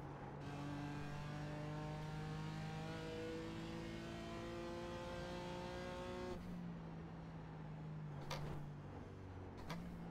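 A race car's engine holds third gear through the corkscrew at Barber track, its pitch climbing steadily and loudly. It briefly drops at a shift, then pulls on with a couple of sharp clicks near the end.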